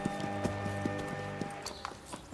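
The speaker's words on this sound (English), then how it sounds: "Few can perform this exacting dance with the power and precision of the Spanish horse." Hooves of a Spanish horse performing a precise dressage routine, a steady rhythmic clip-clop of measured steps heard fairly close over a low sustained music bed.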